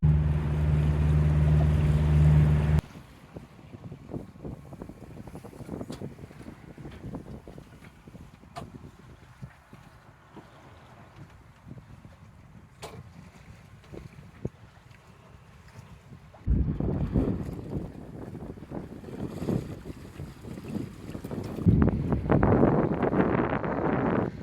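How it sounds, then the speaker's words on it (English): A sailboat runs downwind offshore under head sail alone, leaving Charleston Inlet in calm conditions. Steady wind rush and water swish against the hull go on throughout, with a loud burst of wind buffeting at the start and again later. "I have the head sail going, and we're hitting like 6 knots with the current."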